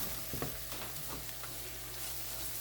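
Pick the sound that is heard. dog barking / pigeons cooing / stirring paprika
stirring paprika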